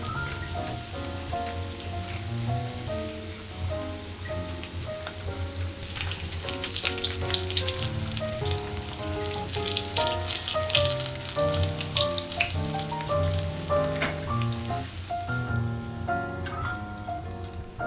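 Fried rice (bokkeumbap) balls brown in a pan, giving a soft, rain-like crackle that runs under loud melodic background music and swells busier partway through.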